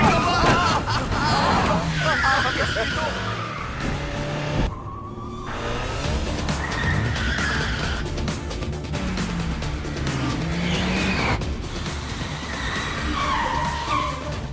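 A car driven recklessly with tires skidding and squealing, loud and sustained across the stretch amid engine noise, with excited voices and crowd babble mixed in.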